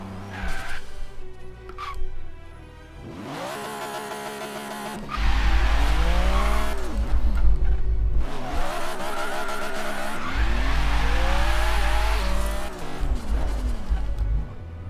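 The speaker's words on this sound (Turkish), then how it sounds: "Abi araba akıyor." Car drifting in the Forza Horizon 3 racing game, on a city tour in a holiday car, with loud sustained tire squeal and skidding over revving engine tones, swelling in long sweeps with no talk.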